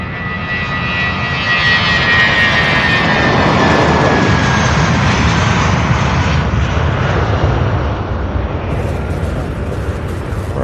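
A 24-year-old Airbus A319 jet roars loudly and steadily at Louisville International Airport, its engine noise swelling and holding with a broad rumble and whining tones across the whole span.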